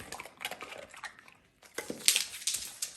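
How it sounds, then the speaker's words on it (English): A dog snaps at a tossed treat and misses it indoors, with faint mouth and paw sounds, a quiet clack, and light clattering close by at a low overall level. "Oh, Duncan, did you miss your treat? You're such a good catcher normally."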